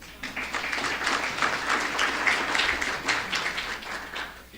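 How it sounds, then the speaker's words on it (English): A luncheon crowd claps steadily for an honoree at an economic development event, dense close applause swelling and holding for several seconds before easing off at the end. "Can we give him a round of applause?"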